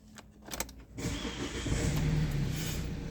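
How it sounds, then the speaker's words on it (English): A Kia Carens car engine cranks briefly and catches, settling into a steady close idle after a few clicks and a whirr from inside the cabin. "Just step into the car now and I'll fire up accordingly."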